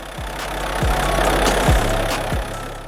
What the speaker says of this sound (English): This is the e-mobility hybrid drive system